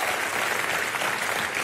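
A studio audience at a comedy talk show claps in a brief, dense burst of steady applause with no talking over it.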